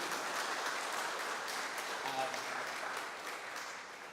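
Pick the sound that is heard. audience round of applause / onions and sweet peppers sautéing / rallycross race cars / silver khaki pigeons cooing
audience round of applause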